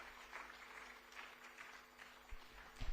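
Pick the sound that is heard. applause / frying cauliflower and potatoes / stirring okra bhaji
applause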